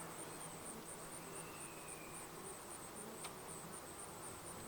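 Honey bees buzz in a constant, dense drone while a Langstroth hive is opened for inspection outdoors, with the hum staying steady and fairly faint throughout and no voices.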